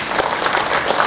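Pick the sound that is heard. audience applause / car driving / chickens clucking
audience applause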